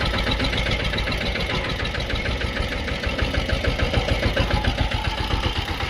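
A three-wheel farm tractor engine idles nearby, producing a steady, rapid chugging knock that holds at a constant loud level with no voices.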